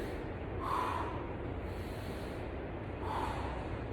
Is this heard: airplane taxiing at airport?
no